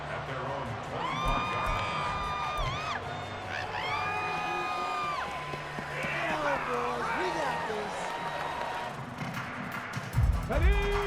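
A Madden NFL 24 stadium crowd cheers and whoops continuously in the game, with a broadcast commentator talking over the roar throughout.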